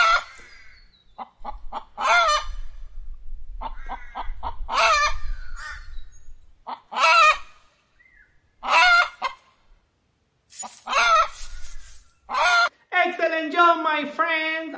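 Rhythmic bursts of voices squawking and clucking like chickens in a children's counting-by-fives game, repeated in short groups with pauses between, ending in a longer crowing call; voices imitate the birds.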